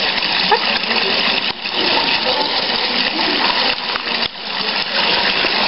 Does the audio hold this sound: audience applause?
no